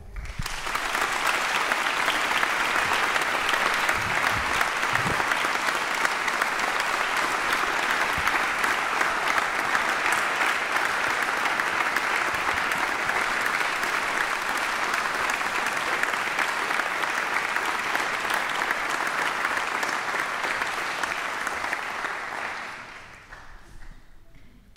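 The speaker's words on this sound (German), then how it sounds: "all diesen Sponsoren dürfen wir einen ganz grossen Applaus geben" Audience at a music camp's closing concert applauds the sponsors with sustained, loud clapping that carries on for over twenty seconds before tapering off into quiet at the end.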